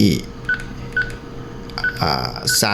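Several short electronic keypad beeps from a FUJITEL FB-580N radio, spaced apart, followed by a brief burst of louder tones and a voice speaking near the end.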